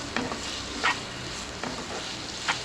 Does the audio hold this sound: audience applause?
no